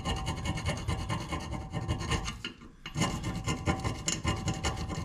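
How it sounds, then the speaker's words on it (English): An ordinary screwdriver scrapes flaking rust off the rear brake disc of a 2009 Volkswagen Golf Mk6 2.0 TDI, a close, continuous rasping scrape in quick back-and-forth strokes with a brief pause midway. "I've just got a regular screwdriver, just having a bit of a scrape"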